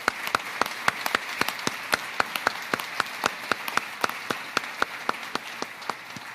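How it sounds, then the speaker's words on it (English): Applause for a Navy band at a naval change of command ceremony, heard as steady, evenly spaced sharp claps, fairly close and continuous for several seconds with no talk. "Round of applause for the band."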